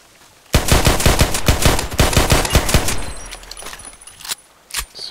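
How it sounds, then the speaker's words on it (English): Rapid bursts of automatic gunfire in the Contract Wars shooter game, a dense fusillade of loud shots for several seconds that thins into scattered single rounds and a few late cracks. "So many shots."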